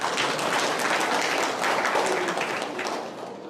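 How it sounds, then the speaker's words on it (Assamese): A gathered audience at a devotional temple event claps in steady, dense applause that stays loud throughout and tapers slightly at the end. "ওর জন্য তালি বাজাতে হবে।"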